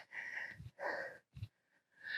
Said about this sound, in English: Sorry if you can hear me breathing